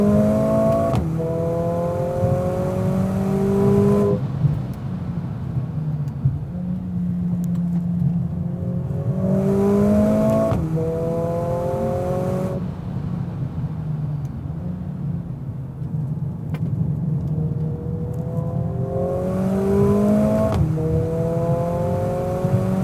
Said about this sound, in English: You can hear the exhaust noise being pumped into the cabin here with the speakers.